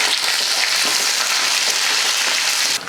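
Small chopped onions frying in hot oil with curry leaves added, a steady, loud, dense sizzle throughout with faint crackles and no voices.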